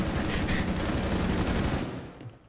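Rapid automatic gunfire from the video game Rainbow Six Siege in Terrorist Hunt mode, a dense, loud, continuous burst that fades out near the end.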